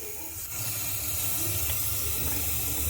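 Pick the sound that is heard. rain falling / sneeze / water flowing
water flowing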